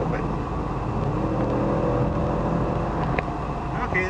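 A 2016 Ford Mustang convertible rental car with the base engine, heard from inside the cabin as the throttle is punched: a steady, moderate engine drone and road rumble rising slightly, with no talk over it.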